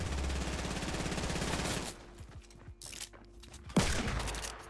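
Gunfire in the Fortnite battle royale video game, a dense rapid burst of shots that stops partway, followed by scattered lighter clicks and footsteps, then a sharp single shot and renewed loud noise.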